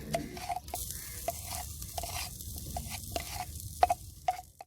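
A utensil scrapes and stirs garlic in a pan over a soft sizzle, with occasional clinks and taps, close by and no talking.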